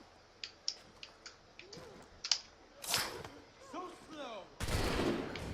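Gunfire in the video game Assassin's Creed 3: a run of sharp, fairly faint shots and clicks followed by a louder noisy burst, mixed with other game effects.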